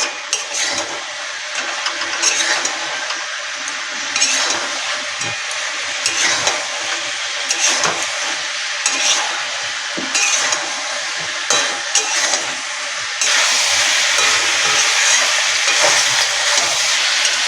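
Chicken stir-frying in a pan with browned masala for chili chicken, a loud continuous hiss and sizzle with intermittent scraping bursts, growing louder toward the end, no speech.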